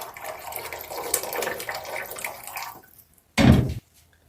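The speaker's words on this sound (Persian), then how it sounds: "دوباره روی حرارت گذاشته و آب جوش به اون اضافه میکنیم" Boiling water poured into a pot over chicken makes a steady splashing rush for nearly three seconds, then breaks off, followed by a brief louder splash or knock close by.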